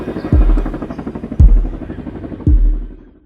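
Sound effect of helicopters arriving, a steady rhythmic rotor chop with three heavy swooping thumps about a second apart. It is loud and close, then fades at the end, with no talk.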